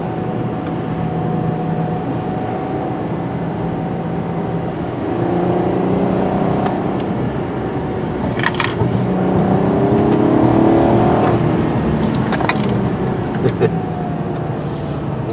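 A VW Passat GT V6 engine accelerates hard on the road, its steady, loud drone rising in pitch through the gears, heard from inside the car with some talk in the cabin.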